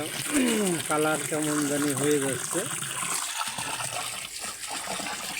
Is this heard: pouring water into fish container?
yes